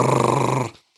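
A lion's warning growl, a loud, close, rough rumbling snarl held steadily for most of a second and then cut off into silence.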